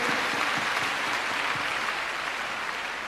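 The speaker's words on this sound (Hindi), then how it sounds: "एक राउंड तालियां जिब्राइल की फैमिली के लिए और उनके टीचर्स के लिए भी जरूर होनी चाहिए" Round of applause for a student's family and teachers at a Delhi government schools event, a steady wash of many people clapping together throughout, even and moderately loud.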